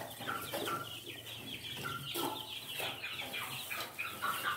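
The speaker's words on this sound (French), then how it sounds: "Voilà les poussins." Chicks peep and cheep in quick, irregular bursts nearby, a busy cluster of small bird calls with light rustling and no talk.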